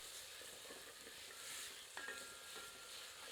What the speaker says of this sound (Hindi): कटी हुई प्याज बर्तन में सम्मिलित कर देते हैं। इसे मध्यम आंच पर भूनते हैं।